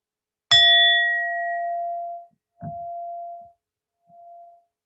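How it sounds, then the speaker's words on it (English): A meditation bell is invited three times: one clear ringing strike that fades slowly, then a softer second strike and a faint third, each tone ringing alone in a quiet room. "I will invite the bell to begin our meditation."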